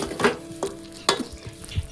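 A spoon stirring a mixed vegetable sabji with three packets of spice masala in a metal pot, giving several quick scraping and clinking strokes up close over a faint sizzle.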